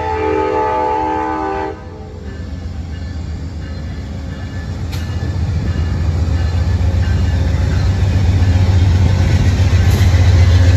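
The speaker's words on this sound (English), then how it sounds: "Amtrak's leaving." Amtrak Downeaster passenger train leaving past a river railroad crossing, a loud horn blast early on, then a building rumble of wheels and engine that grows steadily louder and closer.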